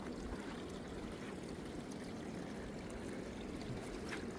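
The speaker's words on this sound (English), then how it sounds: "Another pipe spring." Water from a pipe spring beside the Appalachian Trail in North Carolina trickles and splashes in a steady, continuous wash, close and fairly quiet, with no voices.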